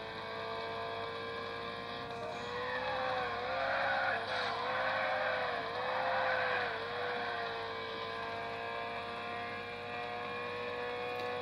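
Race car engine in the mobile game Ridge Racer Slipstream on a Sony Xperia Z1 Compact, a steady high-pitched drone with wavering tire squeals and skids midway as the car brakes into a corner, constant and fairly loud throughout.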